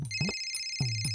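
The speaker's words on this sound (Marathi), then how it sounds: "आला बघ फोन" A phone ringtone plays at home, a repeating electronic melody in short bursts with brief gaps, moderately loud and heard alone.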